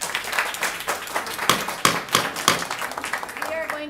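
An audience claps at a township committee meeting in Bernards Township, a burst of uneven hand claps from several people in the room, with voices speaking alongside.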